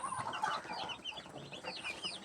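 A group of five-day-old chickens raised on a small farm peep and chirp constantly, overlapping high calls with a few softer clucks, moderately close and without any talking.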